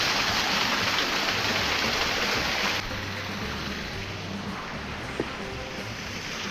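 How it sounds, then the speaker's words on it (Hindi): Waterfall along the Kheerganga trek, a steady broadband rush of falling water that is louder at first, then drops to a softer continuous wash, with no talking. "पास से देखते हैं कैसे पानी गिर रहा है।"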